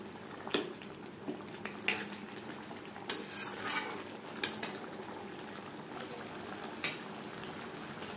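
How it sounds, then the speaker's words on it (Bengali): Chicken biryani with its marinade cooking over a high flame, a faint bubbling sizzle punctuated by scattered clinks and scrapes of a spoon against the pot, with no voices. "হাই ফ্লেমে 5-6 মিনিট রান্না করে নেব।"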